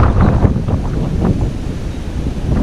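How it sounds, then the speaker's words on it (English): Strong wind buffets a microphone outdoors by the water on an early-morning pike fishing trip. It is a loud, continuous rumbling roar with gusty surges and no pause. "But can you hear that wind?"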